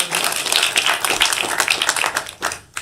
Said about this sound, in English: Everybody give Kelly a big round of applause